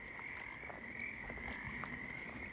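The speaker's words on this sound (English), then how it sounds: "Them frogs is getting louder." Frogs croak steadily near a pond in a Washington forest, a dense continuous chorus with a sustained ringing trill that stays loud and even throughout, with no talking.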